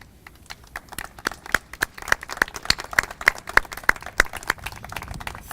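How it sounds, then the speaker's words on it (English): Scattered handclaps from a small group honoring visiting Rotarians at a high school International Day of Peace celebration; individual crisp claps build into a loose, uneven rhythm at moderate distance with no voices. "could our Rotarians who have joined us today stand so that we could give them a round of applause?"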